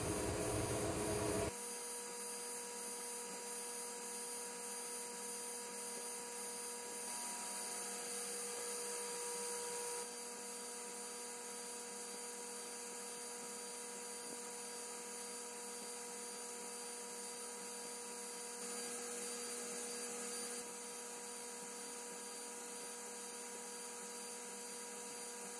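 Laser engraver running with air assist and exhaust while photo-engraving the back of a mirror, giving a steady, continuous mechanical whir and hiss with a faint high whine, unchanging for the whole stretch.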